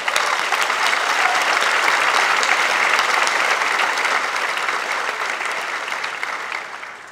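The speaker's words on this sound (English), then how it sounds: "So let's give a round of applause to that group of people as well." Audience at the Harvey Mudd College 2018 commencement gives the faculty a sustained, dense round of applause that holds steady, then tapers slightly toward the end, with no talking over it.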